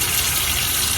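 Water runs steadily from a tap over a candle jar being scrubbed clean with Dawn dish soap, a continuous close rushing hiss with no pauses.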